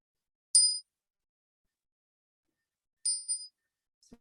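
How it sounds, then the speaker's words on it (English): A small bell struck during Buddhist half bows to the Buddha rings twice, about two and a half seconds apart, each a bright, clear metallic ding that fades quickly into silence, followed by a faint soft thump. "I'll ring the bell."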